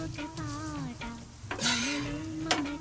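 Boiled liver pieces stirred in a sizzling pan for liver fry, with a spoon scraping and clinking against the pan under a steady frying hiss, and a low hum running through.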